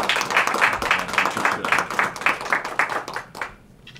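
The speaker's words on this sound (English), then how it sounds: "Y'all give Tony Almeida a round of applause" An audience at a North Carolina governor's press conference applauds, a dense burst of clapping that carries on steadily for a few seconds and then fades out quickly.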